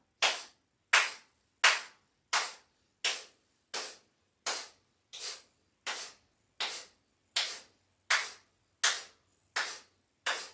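A single person claps their hands about fifteen times at a slow, steady pace during a live yoga balance class. The sharp, close claps stand alone with silence between them.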